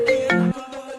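An incoming-call phone ringtone plays a short bright melodic phrase of a few tones, close and clear, cut off after about half a second.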